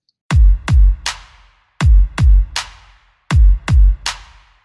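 A drum beat from a digital beat maker in a stomp-stomp-clap pattern: two deep thuds and a sharp clap, repeated three times, loud and alone.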